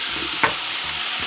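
Carrots and turnips drop into a hot pot for couscous royal and sizzle, a steady frying hiss with a soft stirring scrape, close and without talk.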